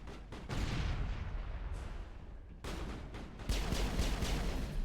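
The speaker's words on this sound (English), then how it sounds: "It's worth throwing a grenade, right?" A grenade explosion and rapid gunfire in the Mass Effect video game, with heavy booming blasts and sustained shooting in loud waves, including a sharp surge near the end.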